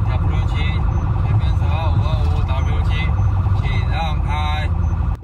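An ambulance siren wails continuously on a highway, a loud warbling and sweeping tone over heavy traffic rumble, with a voice speaking over it.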